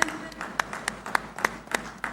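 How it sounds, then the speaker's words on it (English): Audience applause at the groundbreaking ceremony for the Google Cloud India AI Hub in Visakhapatnam, with scattered claps rising above a steady background of clapping, sustained through the clip. "A huge round of applause, ladies and gentlemen."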